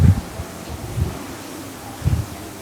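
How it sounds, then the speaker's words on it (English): Breeze blowing across an open cruise ship deck at sea on the Anthem of the Seas, soft steady wind rush with a few low gusty buffets against the microphone. "But it is a little breezy"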